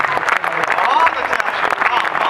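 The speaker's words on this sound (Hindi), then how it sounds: "अब इन तालियों को मेरी ताल में बदलिएगा" Applause from an audience at a Hindi poetry recital, a dense, steady patter of clapping that fills the moment with speech mixed underneath.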